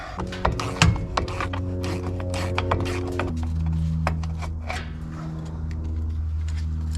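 A wrench ratchets and clanks against a big nut on the brake assembly of a 1954 Plymouth Savoy, with sharp metallic clicks and knocks up close, followed by a steadier grinding mechanical drone.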